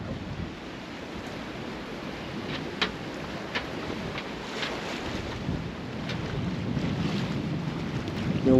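Sailboat under sail, a steady broadband rush of wind buffeting the microphone over the wash of waves along the hull, with occasional splashes and creaks standing out from the constant roar.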